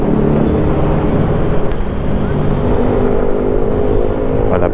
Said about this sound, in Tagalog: Okay, Sukat War Zone. Lagi nagka-traffic dito.